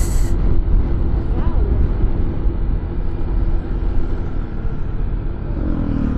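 A Honda PCX160 scooter riding up a steep road, with a constant loud engine drone and rushing wind noise close to the rider, and a brief faint rise in pitch near the end.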